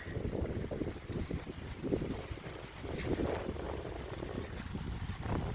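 Strong wind on a cold day of about 40 degrees buffets the microphone in a constant low roar, gusting unevenly throughout.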